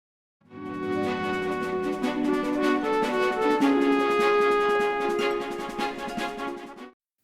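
Ukulele playing a lush, relaxed arrangement of a theme, with dense sustained chords and rippling picked notes ringing steadily, close and alone for about six seconds before stopping.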